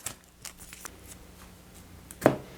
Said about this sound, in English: I'll shuffle this, and we'll start the next round